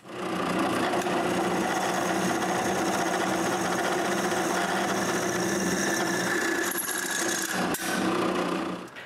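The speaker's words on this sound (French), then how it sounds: "il faut que je perce la boîte originale" A power drill bores a hole through the original enclosure box, a loud, steady grinding whir that holds throughout, then falters and cuts briefly near the end before resuming.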